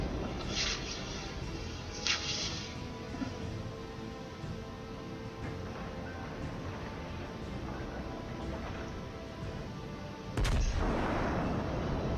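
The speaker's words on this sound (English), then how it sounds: "That should be a good shot." Heavy naval guns of an Iowa battleship in World of Warships, a broad booming salvo late in the passage after a long stretch of steady engine and sea rumble with faint distant shots near the start.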